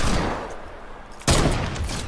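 A loud burst of video game gunfire erupts after a quieter stretch of background game noise, continuing as rapid shots.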